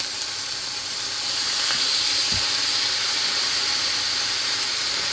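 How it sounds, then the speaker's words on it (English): A seasoned pork chop searing in an iron skillet gives off a steady, loud hiss that swells slightly partway through, with a single soft knock near the middle. "And you can see how the seasoning is searing on there."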